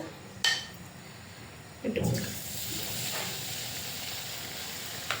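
Chicken potato balls drop into hot oil, setting off a bright sizzle that swells after a sharp splash and then holds as a steady bubbling fry, with a couple of faint clinks of utensils.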